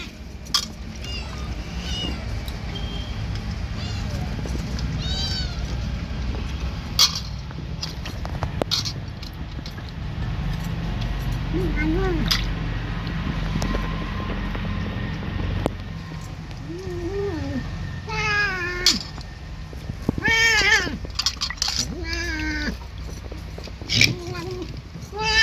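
Two cats meow repeatedly and eagerly at fresh fish being cut, short rising cries scattered over a background of household noise and occasional voices.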